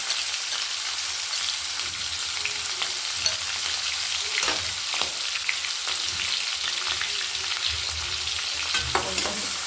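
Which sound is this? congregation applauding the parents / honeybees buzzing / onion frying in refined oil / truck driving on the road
onion frying in refined oil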